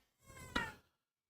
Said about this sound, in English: My cat is meowing up a storm.